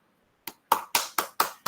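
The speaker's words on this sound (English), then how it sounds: "Please join me in welcoming Professor Gérard Berry with virtual clapping" Six hand claps in a slow, slightly uneven rhythm, close and fairly faint, at an online lecture welcome, with no talking.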